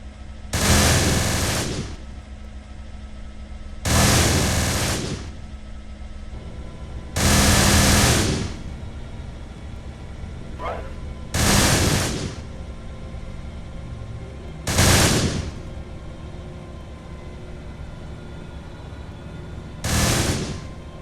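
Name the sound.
machine gun fire in a video game battle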